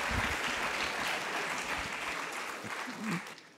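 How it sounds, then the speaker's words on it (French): Applause from a seated audience at a French talk on the sea and the media, steady and fairly faint, holding through the clip before tapering off near the end, with some murmur underneath. "On va t'applaudir."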